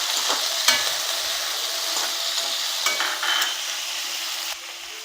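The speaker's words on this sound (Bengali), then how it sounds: "টমেটো দিয়ে দেবো, আর কুচো করা নারকেলটাও দিয়ে দেবো। ভালো করে এটা আমি একটু কষাবো।" Carrot chorchori with tomato and grated coconut sautés in a pan, giving a steady, close sizzle broken by scraping spoon strokes as the mixture is stirred, with no voice heard.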